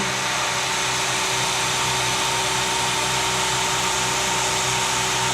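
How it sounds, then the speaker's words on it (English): A Bridgeport milling machine cuts through metal with a steady, loud, continuous whine and a constant motor hum that does not change for several seconds, with no talking. "now we can see here, milling through"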